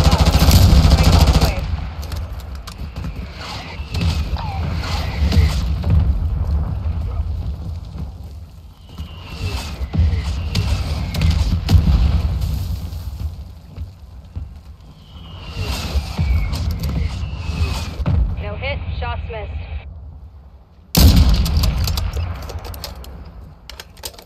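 Call of Duty gunfire from a Plunder match, sustained bursts of automatic fire in long stretches with brief pauses, loud and close, ending in a sharp burst after a short gap.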